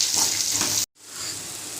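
Onions and green chili frying in a pan for a Sunday curry lunch, a steady bright hiss that cuts out abruptly partway through and then returns slightly softer, with no talk over it.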